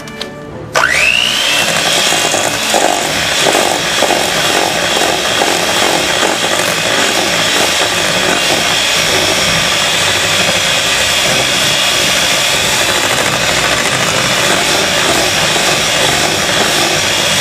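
An electric mixer beats cake batter with eggs in a bowl, starting up with a rising whine and then running at a loud, steady, close buzz with light rattling throughout.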